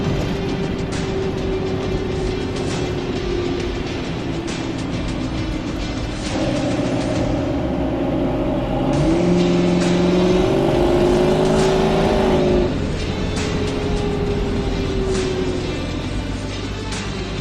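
A 1967 Ford Mustang GT500E Supersnake restomod with a fuel-injected 427 V8 drones steadily inside the car, rising briefly in pitch as it revs before settling back, loud and continuous with no talking.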